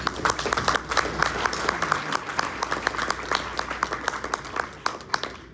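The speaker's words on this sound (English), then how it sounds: "let's give them a round of applause" A conference audience at a motorcycle rider-training session gives a round of applause: many hands clapping at a moderate distance, individual claps audible in a steady, lively patter that continues throughout.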